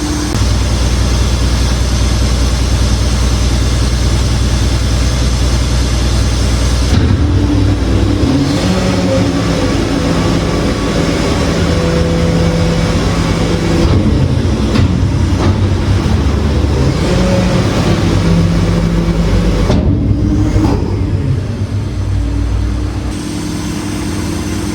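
HGV truck ejector plate sliding out along the truck body, a loud steady mechanical drone and hydraulic engine hum that continues without pause, with rattles and shifts in tone as the ejector travels, and no voices.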